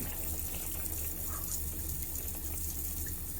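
Water runs steadily into an RV black tank dosed with soap, a constant hissing, splashing flow at moderate level that stays unchanged throughout, with no voices.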